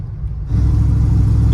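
A 1974 Chevy pickup with a factory 454 big block V8 and loud muffler fires into a deep, heavy rumble that jumps up after a quieter start, close and powerful.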